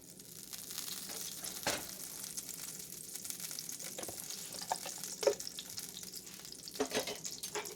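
About two tablespoons of butter melt and sizzle in a cast iron skillet, a quiet crackling fry with a few sharper pops and scraping clicks scattered through.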